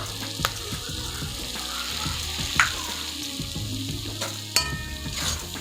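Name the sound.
Kashmiri chili powder stirred into frying jackfruit seed curry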